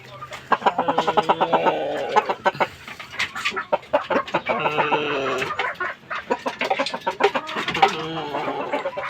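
Several hens of fighting-cock stock cluck and chatter continuously, close by and fairly loud, with overlapping calls in an irregular rhythm.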